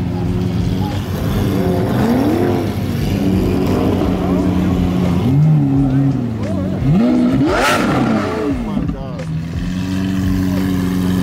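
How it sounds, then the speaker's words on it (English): Supercars leaving a car meet rev their engines hard, loud and close, with repeated rising and falling throttle blips and roaring accelerations that overlap one another, while people talk excitedly nearby. "Look at all these cars that are about to leave right now"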